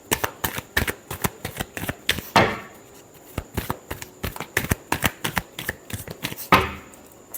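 Tarot cards are shuffled close at hand in quick bursts of riffling slaps, with two longer cascading riffles standing out among the rapid taps.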